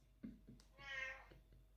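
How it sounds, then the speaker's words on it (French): A cat meows once, a single drawn-out call close by and fairly quiet, with faint background noise and a brief voice sound just before. "J'adore le miaulement du chat à la fin de ce que je dis à chaque fois."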